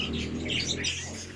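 Small birds in a bird shop chirping and tweeting in quick overlapping high calls, fairly faint, with no talk.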